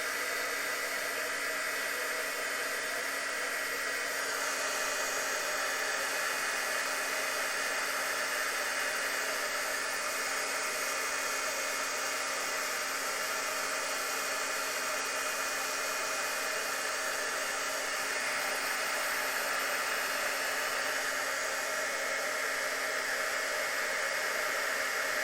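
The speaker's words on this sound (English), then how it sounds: "I'm going to grab my heat tool." A handheld heat tool blows hot air in a constant, even hiss that runs unbroken for about twenty-five seconds, close and moderately loud with no pauses or voices.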